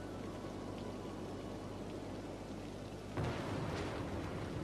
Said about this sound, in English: A big storm now striking through.